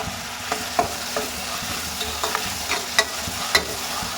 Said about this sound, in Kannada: ಈಗ ಟೊಮೊಟೊನೂ ಕೂಡ ನೀಟಾಗೆ ಫ್ರೈ ಆಗಬೇಕು